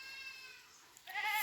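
A goat bleats in a rural village yard, the call rising near the end as a short, fairly close cry after a quieter stretch.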